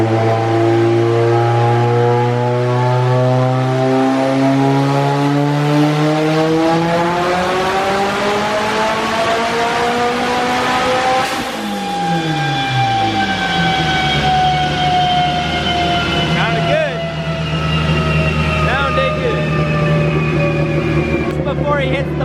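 A tuned race car engine revs hard after its exhaust cam is advanced one degree, a loud, continuous roar whose pitch climbs steadily, drops sharply midway and then settles into a high, sustained wail.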